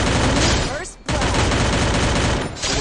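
Rapid bursts of gunfire from the battle-royale shooter Free Fire, loud and nearly continuous, with two brief gaps; a faint voice comes through beneath the shooting.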